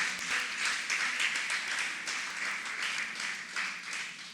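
A church congregation claps hands together as an offering of praise, a fairly faint, dense patter of many hands under a reverberant wash of crowd noise.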